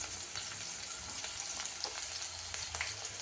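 Onion and capsicum frying lightly in a pan, a soft, continuous sizzle with small crackles and faint stirring, quiet and steady throughout.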